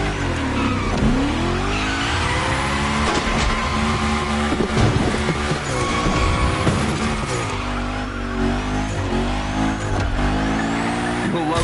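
The Hoonicorn car in a video game revs hard and slides through gymkhana moves, its engine swooping up and down between repeated bursts of loud tire squeal, close and intense with no talk.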